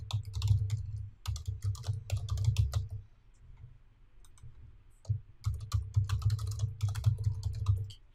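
Typing on a computer keyboard sounds as quick, close key clicks in two busy runs, with a short quiet pause between them.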